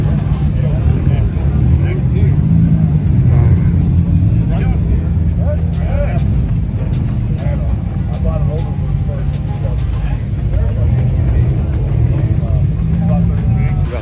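A Lamborghini Aventador at a Nashville cars-and-coffee meet gives a steady, deep engine rumble that stays constant throughout, with people talking nearby over it.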